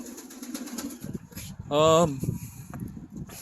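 Pigeons at a backyard loft give a short cooing call amid soft rustling and shuffling, close by, with someone talking over the scene.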